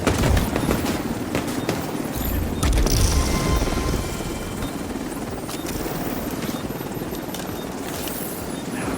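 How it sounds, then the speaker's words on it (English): A helicopter in The Division 2 roars with a heavy rotor rumble, loud and close, while gunfire and explosions crackle over it throughout, with no talking. "Helo is headed back"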